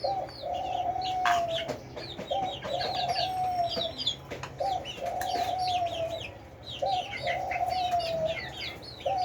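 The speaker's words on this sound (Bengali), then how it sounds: "আবারও ঘুঘু পাখিটা ডাকতেছে" A dove repeatedly gives its soft cooing call in regular phrases, with other birds chirping and clucking in the background.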